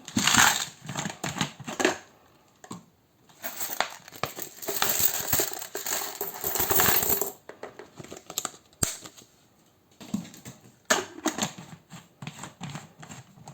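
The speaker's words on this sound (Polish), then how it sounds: "Są to monetki od grosza do 50 groszy, które wrzucam tutaj." Small Polish coins from 1 to 50 groszy are dropped into a fairly full, heavy piggy bank, making close metallic clinks and rattling clatters in bursts with short pauses and no speech.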